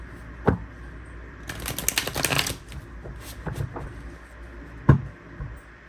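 A deck of tarot cards being shuffled by hand: a dense riffling burst in the middle, with sharp taps as the deck is squared at the start and end, close and clear.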